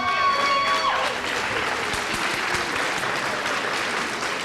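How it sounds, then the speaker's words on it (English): A crowd applauds a graduate of the PPS Pivot Program at a 1997 ceremony, giving sustained, even clapping from many hands. A brief high tone rings at the start before the applause carries on alone. "one more round of applause for Regina Turner"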